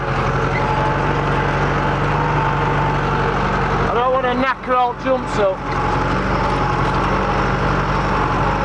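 Four-wheel-drive tractor engine held at about 2,000 revs, a loud steady heavy drone throughout, with someone talking briefly near the middle.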